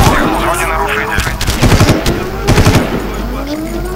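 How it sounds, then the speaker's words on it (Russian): Bursts of automatic gunfire from a Far Cry shooter game ring out in two loud clusters over a steady, wavering alarm siren that rises and falls in the background. "Надо глушить эту сирену."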